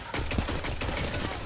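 Rapid gunfire rattles in a PvP battle game, a dense, continuous burst of shots that is loud and close and fills the whole short moment.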